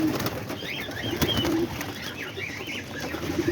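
Homing pigeons coo softly in a throaty, repeated murmur, with faint chirps and wing rustles over a light background hiss.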